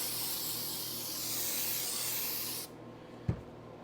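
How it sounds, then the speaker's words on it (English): An aerosol can sprays carb cleaner onto the exhaust of a 1983 Kawasaki GPZ1100 motorcycle, a steady close hiss that runs for over two seconds and then cuts off, followed by a single faint knock. "So let's hit this with a little carb cleaner first"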